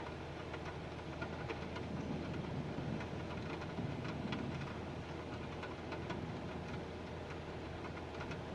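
Steady, dense rain falls close by around a plane in a continuous hiss with no pauses and no voices.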